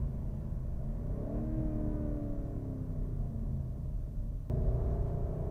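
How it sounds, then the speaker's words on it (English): A 2020 BMW M850i Gran Coupe with a V8 cruising with a steady low engine drone whose pitch rises gradually, then a sudden downshift blip and a louder, deeper note near the end, no voices. "You can hear when it downshifts."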